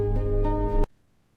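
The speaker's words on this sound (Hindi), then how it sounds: "ये जरूर उस गुंडे का फोन होगा।" A mobile phone rings with a steady tonal electronic ring, loud and close, in a Hindi television drama scene, then cuts off abruptly into near silence.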